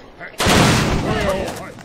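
Musketeers fire in the strategy game Die Siedler 7, a sudden loud gunshot burst followed by a sustained echoing rumble of battle noise.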